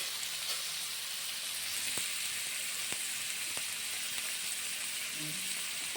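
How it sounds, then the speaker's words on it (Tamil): Onions sauté in hot oil for a masala egg dish, giving a steady, even sizzle at moderate loudness with a few faint ticks of a spatula. "வெங்காயம் நல்லா வாசம் வர அளவுக்கு வதக்கிட்டு"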